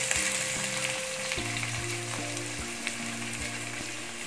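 Long-sliced onions, three medium ones, fry with rampe leaves in hot spiced oil for a vegetable prawn biryani, giving a steady close sizzle with a few sharp crackles and pops. No one speaks over it.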